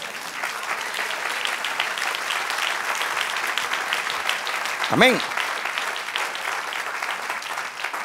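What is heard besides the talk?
congregation applause for the Lord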